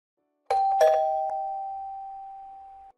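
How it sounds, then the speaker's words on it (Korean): A home doorbell gives two quick chimes, then one clear tone that rings on and fades slowly. It is loud and close, with no voices. "초인종 소리 못 들었니?"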